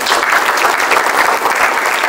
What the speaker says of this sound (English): Let's give a round of applause for our Minnesota House 21B candidates, John Wilson and Marge Fogelman.